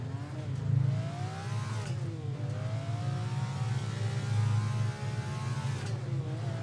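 A Ferrari engine revs up and down through the gears in Assetto Corsa, a loud, steady whine with rising pitch sweeps and brief dips between shifts, heard alone.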